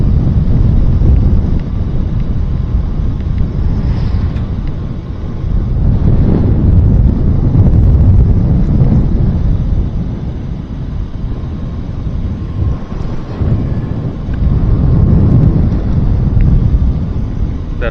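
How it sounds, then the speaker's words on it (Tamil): Wind buffets the microphone on a road trip through Muthanga forest in Wayanad, a loud, rough low rumble that rises and falls in gusts throughout, with no voices. "இந்த இடத்துல கொஞ்சம் சில்லுன்னா காற்று இருக்குங்க."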